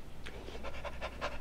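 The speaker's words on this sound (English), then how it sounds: "That's a good doggy there." A dog pants in quick, rhythmic breaths, about five soft bursts heard faintly and close, with no talking.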